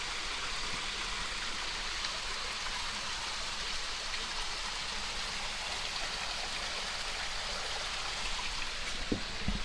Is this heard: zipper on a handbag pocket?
no